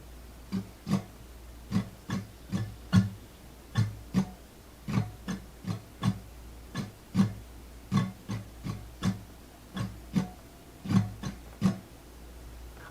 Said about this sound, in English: The strumming pattern slowed down will sound something like this.